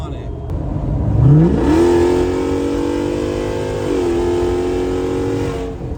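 A Jeep engine revs up while driving, climbing sharply then holding a steady mid-pitched drone with a small dip and recovery, loud and close throughout.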